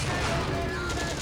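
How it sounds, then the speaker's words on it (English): A tank's high-explosive shell fired at an anti-aircraft gun in the tank game Steel Fury, a dense, loud burst of gunfire filling the whole short stretch with no quiet gaps. "Let's reload a high explosive shell and take out this AA gun"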